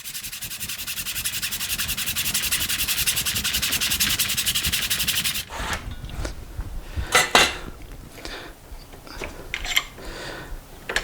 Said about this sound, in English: So I'm just going to start cutting these fret slots